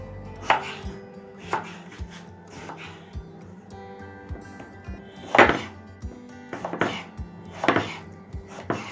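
A knife chops tomatoes on a board in a home kitchen, a series of crisp, irregular knocks against the surface with soft slicing between them, close and clear, no one talking.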